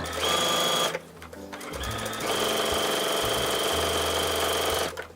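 A sewing machine stitches a placemat seam in close bursts of fast, even whirring, starting and stopping briefly before running steadily for several seconds.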